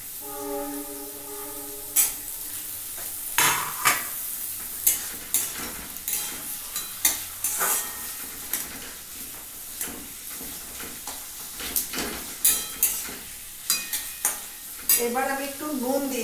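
Tomato and capsicum are stir-fried for chow mein with repeated scraping and clinking of a spatula against the pan over a faint sizzle. Brief talking is heard at the start and end.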